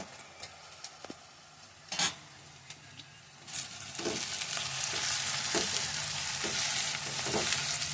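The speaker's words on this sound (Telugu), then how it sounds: "అలాగే ఏగనివ్వాలి అల్ల పేస్ట్ వేసిన తర్వాత" Ginger paste frying with fish masala in a pan for a fish curry, a steady sizzle rising after a few sharp clinks and scrapes of a spoon, then continuing with intermittent stirring strokes.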